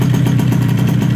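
Tuned 70cc liquid-cooled moped engine with a racing setup runs steadily, giving a loud, close, buzzing drone with a rapid even pulse and no talk.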